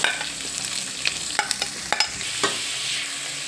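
Onions frying in a pan for veg Hakka noodles, a steady close sizzle broken by several sharp scrapes and clinks of a spatula stirring against the pan.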